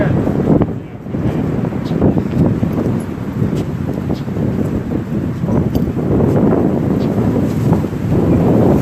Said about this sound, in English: Maybe there's a little less wind.